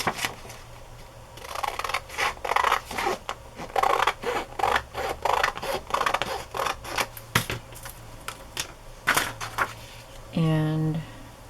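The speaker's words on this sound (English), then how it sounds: "I'm going to cut off the border." Scissors cutting the paper border off a journal page, close crisp snipping strokes in irregular bursts, with a brief ratcheting mechanical sound at the end.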